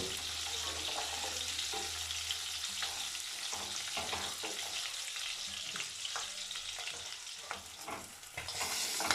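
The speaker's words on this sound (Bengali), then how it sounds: "দেখুন ট্যাংরা মাছগুলো কত সুন্দরভাবে ভাজা হয়ে গিয়েছে" Small tangra fish, rubbed with turmeric and salt, frying in hot oil, giving a steady close sizzle with light crackles and occasional stirring, with no voices.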